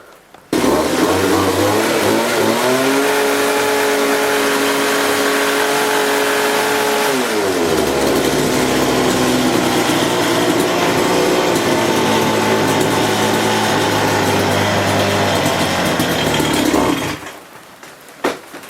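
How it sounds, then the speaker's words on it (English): A small engine just off choke revs up steadily, then bogs down and struggles with a dropping, labored drone for several seconds before cutting out; loud and close, with no talk. "try and increase the revs, this thing just bogs down"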